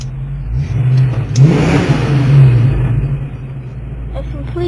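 A loud 1989 Ford Mustang engine, freshly back from the shop, revving hard while accelerating, its tone climbing and falling through a couple of surges over a few seconds, close and dominant.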